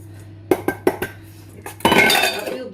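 Apple cake ingredients being mixed in a bowl: several distinct clinks of a utensil against the bowl, then a louder, continuous rattling and scraping stir near the end, all close and without voices.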